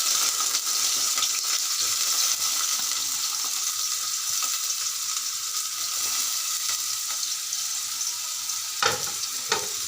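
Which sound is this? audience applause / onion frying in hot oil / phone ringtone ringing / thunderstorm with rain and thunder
onion frying in hot oil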